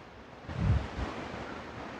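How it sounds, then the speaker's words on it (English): Rushing water from Shivanasamudra Falls in Karnataka, heard from a viewpoint as a steady broadband roar that swells briefly midway, with wind noise on the microphone. "There's a small waterfall there as well."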